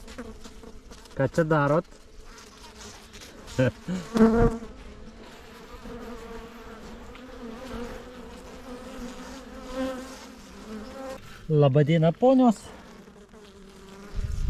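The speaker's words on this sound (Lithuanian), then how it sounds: "O va šitos bitės yra ypatingos bitės." Honey bees at a hive in spring give a continuous, fairly faint buzzing drone. People talk in short bursts over the humming swarm.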